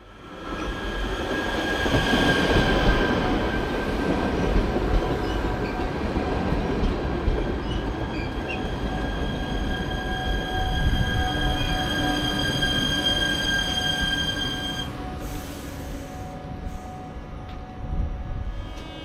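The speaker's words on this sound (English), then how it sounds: "A couple more minutes passes and then the inbound train to Sofia shows up." An inbound train pulls into a station on the line to Sofia, Bulgaria, with loud, steady rolling rumble, sustained high wheel squeal and faint clacking, easing off near the end with no voices.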